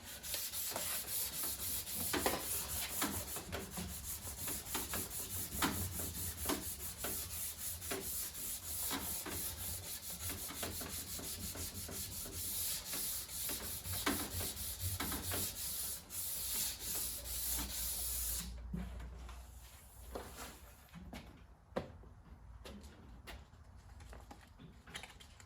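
An orbital sander runs steadily over wooden trim molding, a continuous loud abrasive whir with rubbing texture, easing off and growing quieter near the end.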